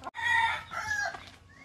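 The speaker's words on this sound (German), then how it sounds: "So, Hahn, bist du der Kampfhahn?" A fighting rooster crows once, loud and close, in a hoarse drawn-out call lasting over a second, outdoors at a dive resort in the Philippines.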